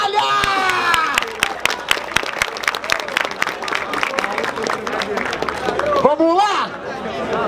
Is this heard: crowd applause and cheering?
yes